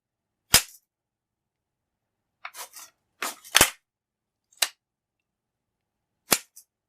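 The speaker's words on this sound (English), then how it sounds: "Just working the action now, getting used to it." The bolt action of a Mannlicher 1888/90 rifle is worked by hand, making sharp, isolated metallic clacks and snaps, one at first, then a quick cluster of several, with silence between.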